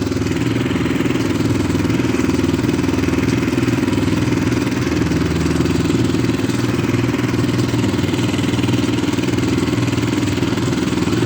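A walk-behind tractor engine driving over snow chugs loudly and steadily throughout, a close, continuous mid-pitched drone with rattling clatter and no change in pace.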